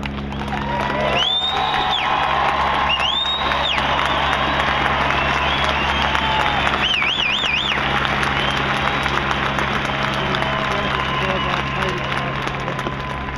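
Fans and the cadet corps cheer the Army team at a stadium, a broad, steady crowd roar that fills the whole stretch, with a few high whistle-like tones rising over it near the start and middle.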